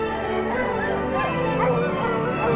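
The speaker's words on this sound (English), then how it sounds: "Alaska dog sleds furnish a means of transportation across the frozen wastes." Alaskan sled dogs at an Antarctic outpost, a dense chorus of barking, yipping and whimpering from many dogs at once, loud and continuous throughout with no pause.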